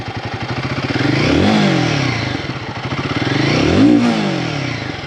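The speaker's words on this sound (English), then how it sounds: "This is the idle tone of this bike. Let me rev it up." A Royal Enfield Guerrilla 450 motorcycle engine thrums close by at a steady pulse, then revs up twice, its pitch rising and falling with each throttle blip.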